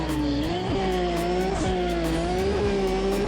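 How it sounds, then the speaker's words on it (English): Toyota Supra engine in Need for Speed: ProStreet revving hard and continuously, loud and close, with pitch climbing and dropping through gear shifts and faint tire squeal. "you're welcome to listen to this absolute behemoth of a Supra"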